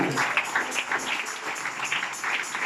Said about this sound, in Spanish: ¿Cuánto da un aplauso al Señor Jesucristo?